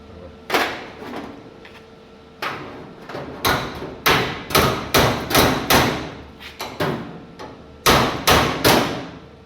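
A hammer taps a rusted metal body panel on an old Dodge car under repair. Close, ringing strikes come in uneven clusters of quick blows with short pauses between them.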